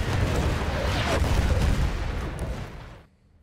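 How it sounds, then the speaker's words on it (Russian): Heavy artillery fire in the World War I shooter game Battlefield 1: a dense, roaring barrage of booms and rumbling blasts that holds steady for about three seconds, then cuts off abruptly into near silence. "Артиллерия!"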